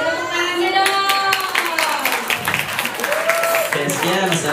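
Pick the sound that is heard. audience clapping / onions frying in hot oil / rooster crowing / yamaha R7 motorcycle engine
audience clapping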